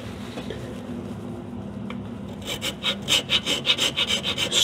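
Hand scraping on a metal part of a Skinner steam engine starts after a quiet stretch: a fast, rhythmic series of close, raspy strokes, loud and alone.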